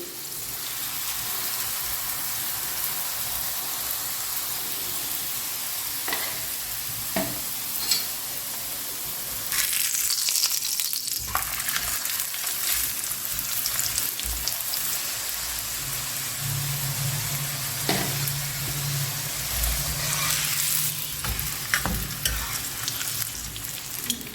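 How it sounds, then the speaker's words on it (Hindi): Mooli paratha frying in a pan on a low flame gives a steady, close sizzle and crackle throughout, rising and falling slightly as the flatbread is moved about. "इसको फ्राई आपने दरमियानी आंच पर या लो फ्लेम पर ही करनी है"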